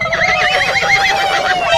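A horse whinnies loudly and close, a single shrill, wavering neigh lasting almost two seconds with no voices over it.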